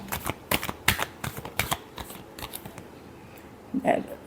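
Tarot cards being shuffled by hand, a quick run of crisp riffling snaps and flicks that slows and fades, close and fairly soft.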